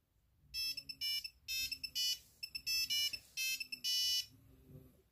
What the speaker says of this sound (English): that's actually my primary ringtone